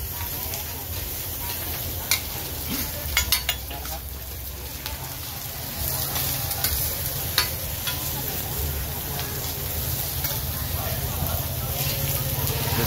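Oyster pancakes fry with a steady loud sizzle on a giant pan at a busy street stall in Nakhon Pathom, spatulas clinking and scraping now and then, while vendors call out orders over the noise.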